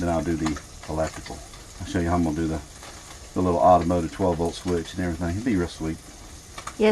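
Food frying on a stove in an RV kitchen, a steady background sizzle running beneath someone talking close by throughout.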